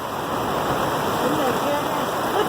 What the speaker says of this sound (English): Right now it's just pouring down like hell.